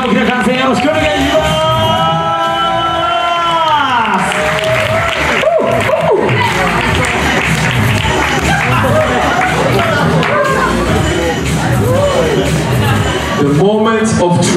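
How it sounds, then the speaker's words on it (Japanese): A crowd at a Popping Forever Japan 2017 semi-final dance battle cheers and claps loudly and continuously, mixed with shouts and music. "お二人さん、今一緒に大きな歓声よろしくお願いします。"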